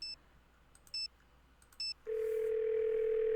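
In the video game Nancy Drew: Ghost of Thornton Hall, a phone gives three short, spaced button beeps, then a steady, unbroken dial tone that runs on to the end, clean and without talk.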